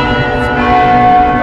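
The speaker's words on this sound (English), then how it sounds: "Legendary bell, please." The legendary bell in the Roblox game Deepwoken rings as a loud, sustained metallic tone with rich overtones that holds steady for the whole moment over a game soundtrack bed.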